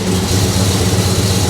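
A 1969 Chevrolet Chevelle SS V8 idles steadily through its exhaust, a loud, close, continuous low rumble with no voices over it.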